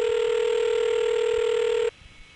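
A steady, loud electronic telephone tone holds for about two seconds, then cuts off abruptly, leaving faint background noise.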